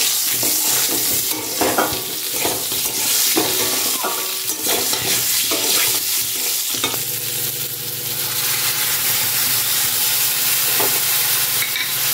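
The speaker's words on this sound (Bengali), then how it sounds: "লঙ্কা আর তেজপাতা ফোড়ন দিয়েছি। এবারে আমি পেঁপে দিয়ে দেবো।" Papaya pieces fry in hot oil tempered with chili and bay leaf, a loud continuous sizzle close by with clattering scrapes and stirring of a spatula against the pan.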